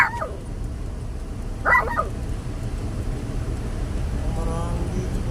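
A couple of brief, separate barks from a large dog come through faintly against a constant background rumble, with a quieter whine near the end.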